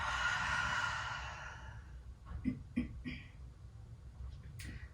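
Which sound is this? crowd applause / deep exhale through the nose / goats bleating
deep exhale through the nose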